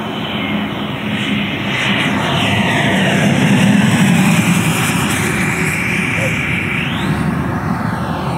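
An 11.3 kg EDF Odyssey model jet with a JETFAN-120 PRO ducted fan flies slowly overhead, its steady whining fan roar swelling and fading as it passes, with a voice speaking briefly over it.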